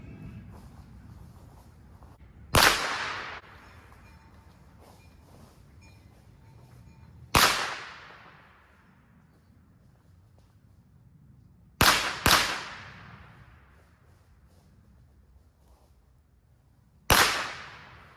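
Four sharp, loud gunshots at target practice outdoors, spaced several seconds apart, the third a quick double, each with a short decaying echo over quiet background.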